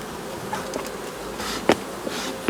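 Honeybees buzz steadily around an open beehive, a close, continuous hum with a few louder individual bees passing near.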